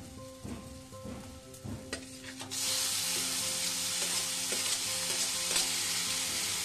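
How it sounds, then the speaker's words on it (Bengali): Tomato tossed into a pan of frying spices and turmeric for a banana flower dish. Quiet frying and stirring give way to a sudden loud, steady sizzle with scraping stir strokes, close up with no talk. "মশলাগুলো প্রায় ভাজা হয়ে গেছে, এই সময় আমি দিয়ে দেব টমেটোটা দিয়ে দেব।"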